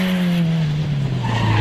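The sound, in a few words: historic rally car passing through an intersection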